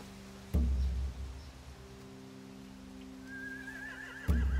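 Horses neighing in The Walking Dead video game: two loud whinnies near the start and end, with a quieter high whinny between them over a steady low hum, no talk.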